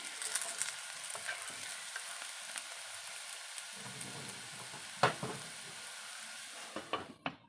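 Whole small potatoes frying in a covered pan over low heat, a soft continuous sizzle, close and quiet, broken by a few sharp clinks of a utensil toward the end.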